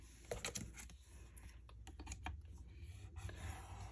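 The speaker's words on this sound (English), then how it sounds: "Line it up, punch, and once again score." Paper punched and scored on an envelope punch board for a mini album, making quick crisp clicks and clacks with short pauses between them, close up and soft, with no voices.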